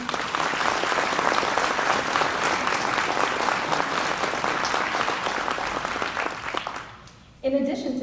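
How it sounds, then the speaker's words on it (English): An audience at a small-town pageant coronation gives a loud, sustained round of applause for the young women honoured, which stops abruptly near the end before a voice begins speaking. "Let's have a big round of applause for these outstanding young women."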